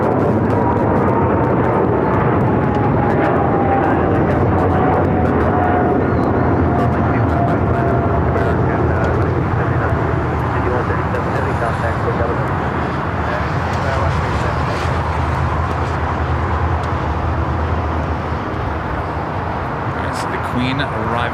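A Boeing 747-8 jet arriving at Los Angeles airport gives a loud, steady broadband roar that holds for the full stretch, with a slowly falling whine and talk over it.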